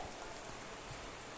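Faint, steady hiss of rain falling, continuous and soft, with no voices.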